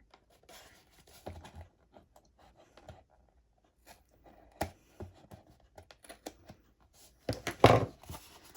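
Paper being trimmed for a handmade paper purse, scattered quiet snips and light taps spread out close by, ending in a louder rustling crunch of paper handling.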